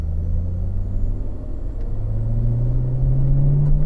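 A race car at Spring Mountain rolls out onto the racetrack, its engine holding a steady, loud low drone that slowly rises in pitch as it picks up speed, close and alone without talk.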